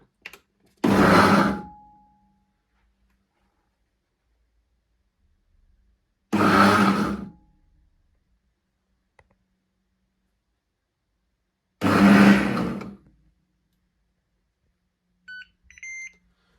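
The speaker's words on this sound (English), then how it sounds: "The blender will pulse to roughly chop aromatics." A Ninja Foodi blender whirs in three short, loud bursts spaced several seconds apart, with silence between each pulse, roughly chopping aromatics.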